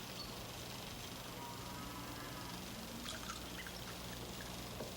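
Hot liquid is poured into a container in a trailer at breakfast, giving a steady, soft trickling stream under a constant low background hum, with a few faint clinks near the end.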